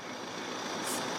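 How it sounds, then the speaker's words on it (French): A steady low engine rumble idles throughout, constant and fairly close, with a faint high whine briefly rising near the end. "il faut couper le moteur, je n'entends rien"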